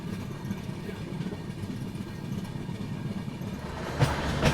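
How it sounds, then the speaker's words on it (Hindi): Duronto Express passenger train running on rails near Ghaziabad, a steady rumbling roll heard from on board, with a couple of sharp clacks near the end. "फिलहाल अपनी ट्रेन पहुंच रही है गाजियाबाद रेलवे स्टेशन।"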